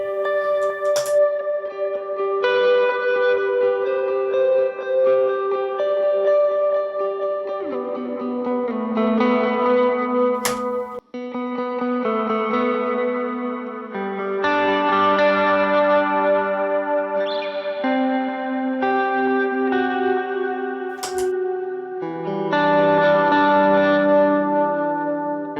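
A clean electric guitar played through a pedalboard with a Timmy pedal, delay and reverb rings out in spacious, echoing chords and arpeggios with long washing tails, sustained and alone without talk.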